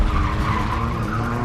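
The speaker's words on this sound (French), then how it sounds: "la voiture fantôme fait demi-tour" A car skids through a U-turn, tires squealing steadily and loudly under a rough engine drone for the whole moment, close and continuous with no voices.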